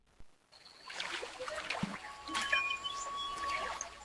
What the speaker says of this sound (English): The sound of the animal drinking water, the ambience, everything is on point